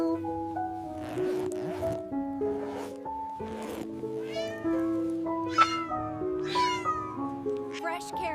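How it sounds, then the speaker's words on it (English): A cat meows repeatedly in a series of clear, drawn-out calls, close and fairly loud, with a soft tonal background running underneath. "Meow."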